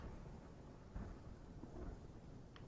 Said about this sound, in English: you can hear thunder crack or roll across from the distance every little while